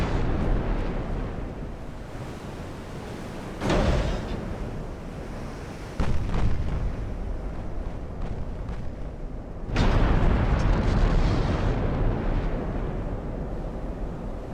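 Battleship guns in Ultimate Admiral Dreadnoughts fire HE shells at 1915 Japanese battleships, heavy booming salvos at about four, six and ten seconds over a constant roaring wash of sea and wind.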